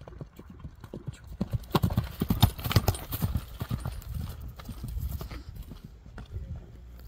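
A horse named Kara Khan, trained for ulak (kok-boru) horseback games, is ridden at a steady gait, its hooves clip-clopping in a quick even rhythm, close and clear, with faint voices in the background.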